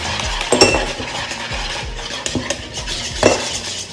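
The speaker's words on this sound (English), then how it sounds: "We're gonna put some ice cubes." Ice cubes dropped into a drink while it is being made, giving several sharp clinks and clatters against the glass at irregular intervals, close and fairly loud, with a faint sizzle-like background.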